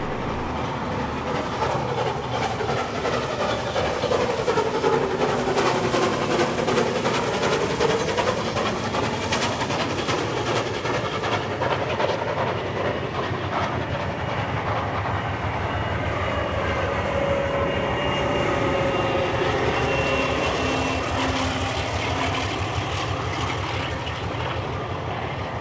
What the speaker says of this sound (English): Next we see 3265 now heading for Hurstville with its first shuttle train for the day